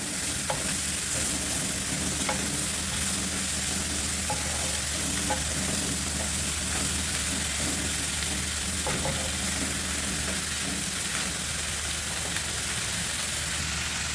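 Vegetables including baby corn and broccoli stir fry with chicken and oyster sauce, a continuous soft sizzle with occasional utensil clicks and stirring scrapes, fairly quiet and close, no speech.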